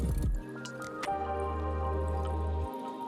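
Water poured into a baking pan while making a Sri Lankan coconut custard, a short trickle and splash that settles into a steady filling pour for a few seconds.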